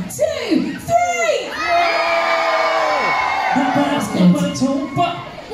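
A wrestling show crowd at Trecco Bay, Wales, erupts in a loud practice cheer on a count of three, with children shrieking and whooping in a sustained wave of voices that swells and rolls on for several seconds.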